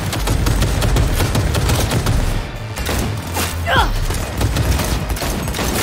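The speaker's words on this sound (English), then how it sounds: "Using a shotgun!" Shotgun gunfire in the video game Cyberpunk 2077 Phantom Liberty, a dense, continuous barrage of blasts and impacts with a brief lull midway, loud and close amid game noise.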